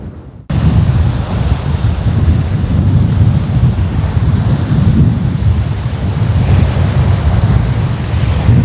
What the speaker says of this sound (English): Howling a gale here.